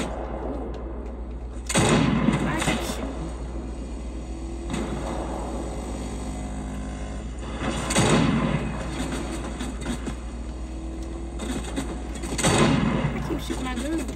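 Gunfire in the video game Fortnite, heard as three separate loud bursts spaced several seconds apart over a constant low background hum.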